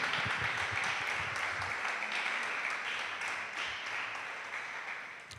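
A church congregation claps together in praise, a dense wash of applause that holds steady and then slowly fades, with no speech over it.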